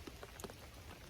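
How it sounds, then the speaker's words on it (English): Steady rain patters on a tarp overhead at dusk, a dense, even hiss of drops with a few louder individual plinks near the start, fairly close and continuous throughout. "we might as well make use of being stuck under a tarp in the rain."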